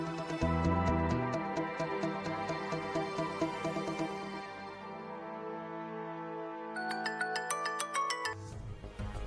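A phone ringtone plays a bright, repeating melodic tune for about nine seconds while a call is placed, steady and fairly clear, with a short change in the pattern near the end and no talking.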